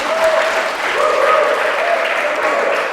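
A church congregation bursts into warm, continuous applause, a dense even patter of many hands filling the room at close range, with faint voices mixed in underneath.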